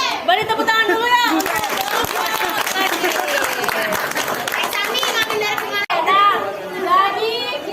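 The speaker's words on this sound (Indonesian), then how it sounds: "Beri tepuk tangan dulu ya." Schoolchildren in a classroom applaud after a student presentation during a microteaching lesson, a steady wash of clapping mixed with lively chatter and kids' voices throughout, briefly cutting out near the end.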